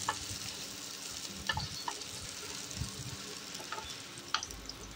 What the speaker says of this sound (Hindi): अब हम डालेंगे लहसुन, भुनने देंगे लहसुन को।